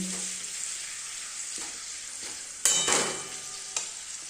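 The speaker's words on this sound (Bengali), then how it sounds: "তো পাঁপড় ভাজা কমপ্লিট" Papad frying in hot oil gives a steady, close sizzle with a sharper burst of crackling midway and a few brief stirring clicks, no voices.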